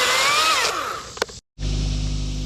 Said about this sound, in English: I'm fixing to cut a knot right here. Gotta cut these stubs off.